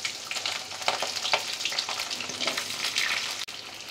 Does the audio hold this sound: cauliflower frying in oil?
yes